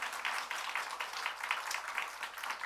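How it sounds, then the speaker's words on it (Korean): A church congregation claps together during a New Year's worship service, a fairly quiet, steady patter of many hands that holds evenly throughout. "한 해 동안도 함께 하신 삼위일체 하나님께 영광의 박수"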